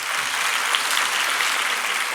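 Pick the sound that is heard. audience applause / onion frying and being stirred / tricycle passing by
audience applause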